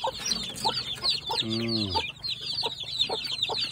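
A hen clucks repeatedly at close range, with a short drawn-out squawk in the middle and other birds faintly in the background.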